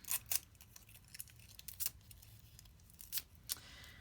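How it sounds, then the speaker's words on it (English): Indigo watercolor paint being unwrapped from its wrapper, giving several short, crisp crinkles of paper or foil spaced across a quiet room, close and fairly soft, with no talking. "And then I'm going to unwrap the indigo."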